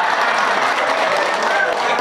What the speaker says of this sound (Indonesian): Masya Allah, tepuk tangan lah.